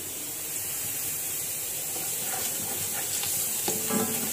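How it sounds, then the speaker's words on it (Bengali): Fried onions and washed rice being stirred together in a pot for biryani: a continuous close sizzle with scraping stirs and spoon clinks, no talking. "হয়ে গেছে আমার পেঁয়াজটা, আমি এখন এর মধ্যে চাউল দিয়ে দিব।"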